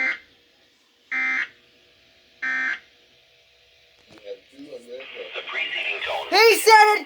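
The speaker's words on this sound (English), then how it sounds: "The weather radio tone alarm feature." A weather radio alert test sounds as two short, loud, steady electronic tone bursts separated by silence, followed by someone speaking over a growing burst of music.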